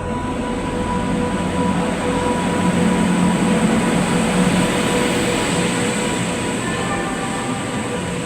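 Continuous rumble of a train in motion, steady and loud throughout, with a faint high whine riding over the low roar.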